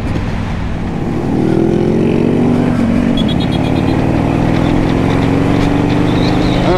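A 1984 Harley Davidson FLT Tour Glide motorcycle rumbles along a highway, its engine loud and close, the low drone rising in pitch as it accelerates after the first second and holding steady with wind and traffic noise.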